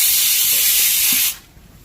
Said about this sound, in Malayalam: നമ്മുടെ ഉരുളക്കിഴങ്ങൊക്കെ വെച്ചിട്ട് ഒരു വിസിൽ വന്നു